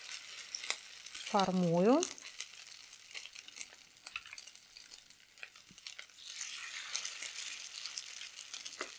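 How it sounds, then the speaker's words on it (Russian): Minced chicken cutlets fry in hot oil in a pan with a steady, soft crackling sizzle. A brief squeaky whine rises over it early on, and a few spoken words come in. "И обжариваю до золотистой корочки."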